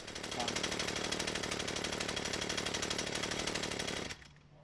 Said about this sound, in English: I cannot get the engine to idle slow enough that the chain stops moving at idle without being on the throttle